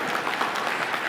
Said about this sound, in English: applaud for being young